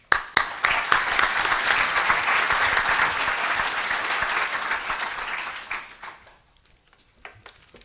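An audience greets architect Ben van Berkel at a lecture with sustained loud applause, dense clapping that swells and holds for several seconds, then thins out into a few scattered claps.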